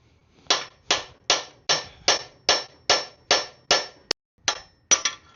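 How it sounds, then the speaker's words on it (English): Repeated heavy hammer blows strike a seized motor, about a dozen sharp, evenly spaced impacts ringing briefly each, close and loud, with one quicker tap breaking the rhythm near the end. "Pro tip, use a bigger hammer."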